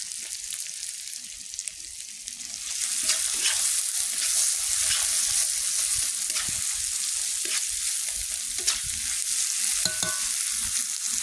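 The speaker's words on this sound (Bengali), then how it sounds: "এটাও একটু লবণ দিয়ে দেবো, দিয়ে নাড়ব।" Tomato, green chilli and onion frying in a pan, a steady close hiss and sizzle, louder after a few seconds as the mixture is stirred, with scattered scraping taps of the spoon against the pan and no talking.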